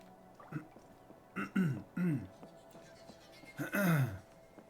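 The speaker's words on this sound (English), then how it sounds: "Just gotta clear my throat there." A man clears his throat several times in short, voiced, rough bursts, close to the microphone, during a Genshin Impact game stream, with quiet game sound underneath.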